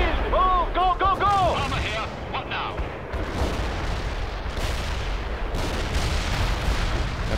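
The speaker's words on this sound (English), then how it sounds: "That building's being destroyed." A building collapses under heavy fire in the war game World in Conflict: loud, dense booms and rumbling blasts roll on for the whole stretch, with a brief tonal wail near the start and no clear talk.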